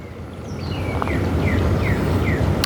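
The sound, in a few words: birds chirping in the morning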